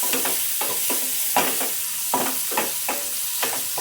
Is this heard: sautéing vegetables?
yes